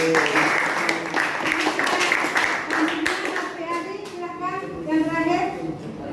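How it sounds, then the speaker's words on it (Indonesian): A classroom of pupils claps together in a burst of applause, hands beating close by while children's voices chatter and call out over and around it, the clapping thinning out toward the end. "Oke, kasih aplaus."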